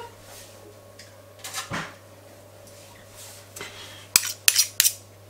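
A tablespoon scrapes and taps against a bowl and dish as cobbler batter is dropped in small heaps over pears, with a quiet pause between two bursts of clinks and a closing run of sharp metal taps.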